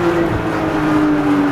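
A Porsche 992 GT3 RS engine holds a high, steady, sustained tone, close and loud, with a rough rumble underneath and no voices.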